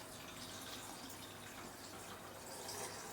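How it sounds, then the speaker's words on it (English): Salt brine poured over vegetables packed in a jar for lactofermentation, a steady continuous splashing pour of liquid running for the whole stretch at even level, with no talking. "we just pour the brine over"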